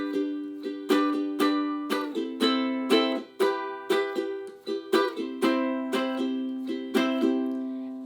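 A ukulele plays the intro of a song, with bright, close chord strums in a steady rhythmic pattern, each strum ringing briefly before the next, alone with no talking.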